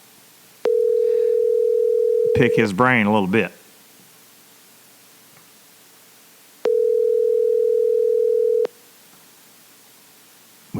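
A steady telephone dialing tone sounds in two long, loud, even beeps separated by quiet, with someone speaking briefly between them.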